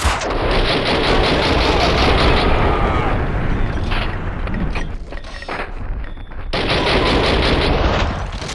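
Sustained heavy gunfire in the Max Payne 2 game, loud dense shooting that runs nearly continuously, dips briefly in the middle, then resumes at full intensity.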